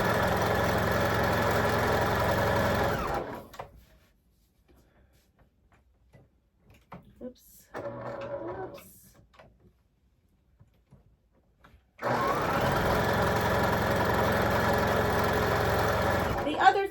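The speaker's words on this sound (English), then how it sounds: "we are going to sew 1/4 inch on both sides." A sewing machine stitches quarter-inch seams along both sides of a drawn line on quilt fabric for an Irish Chain block, with two steady whirring runs separated by a long quiet pause broken only by faint handling clicks.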